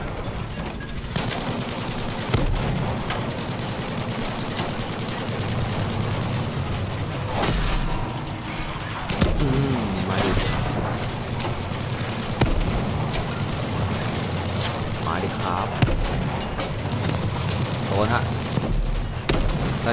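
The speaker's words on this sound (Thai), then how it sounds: "เหมือนมีปืนสาดมาจากด้านนู้นนะครับไม่รู้ว่าปืนใหญ่หรือรถถัง" Battlefield V gunfire on a Solomon Islands map, with repeated shots, bursts and booms from a tank or artillery over steady battle noise throughout, and a player talking under it.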